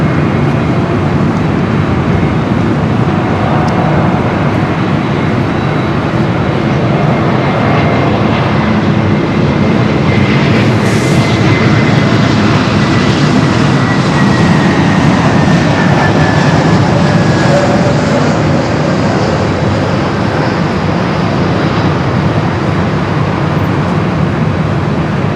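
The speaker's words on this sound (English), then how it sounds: "Delta 767 to 300ER heading to Atlanta" A Delta Boeing 767-300ER jet taking off from LAX, bound for Atlanta: a loud, sustained, broadband jet roar that holds steady and close throughout, with no one talking.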